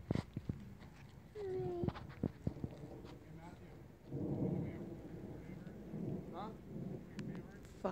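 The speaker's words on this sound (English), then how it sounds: "It's also starting to rain." Rain beginning to fall during a thunderstorm near a hillside fire, a soft hissing patter building under scattered thumps and handling noises, with a low rumbling swell midway.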